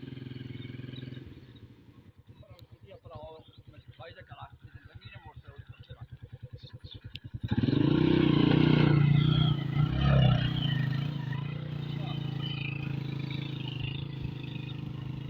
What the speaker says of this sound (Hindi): ये देखें अब ये गाड़ी मोटरसाइकिल